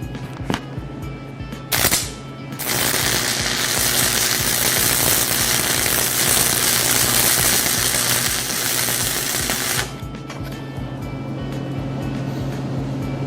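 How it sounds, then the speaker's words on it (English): A stick welding rod burning against a metal workpiece gives a loud, steady crackling hiss that runs for about seven seconds and then cuts off, with no talking. "a nice smooth molten puddle of metal with a consistent distance between the tip of the welding rod and the surface of the work"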